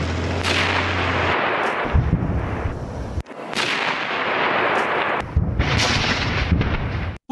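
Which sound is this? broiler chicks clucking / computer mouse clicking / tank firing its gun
tank firing its gun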